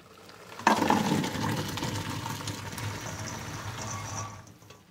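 Boiled beans are tipped into a strainer, a sudden rush of draining water that pours steadily for several seconds and then tapers off, close and moderately loud.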